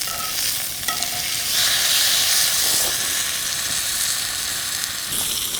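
Wagyu steaks searing in a hot pan, a loud steady sizzle and hiss of fat spitting, sustained throughout and close up with no talking.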